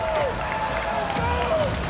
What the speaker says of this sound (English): I still hear the SSG chant